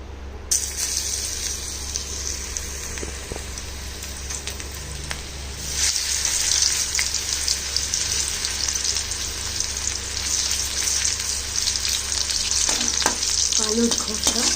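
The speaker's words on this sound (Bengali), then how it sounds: "আলুর খোসা আমি তেলে সুন্দর করে ছড়িয়ে দিলাম।" Potato peels frying in hot oil, a steady sizzle that swells louder when the peels are spread into the pan, with occasional stirring scrapes and light crackles up close.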